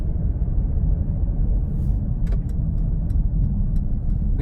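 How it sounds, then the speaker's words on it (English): Steady low road and engine rumble inside a 2019 Mercedes-Benz GLC300 while driving, a constant cabin drone with faint ticking clicks partway through. "you can hear a little bit more noise in this GLC"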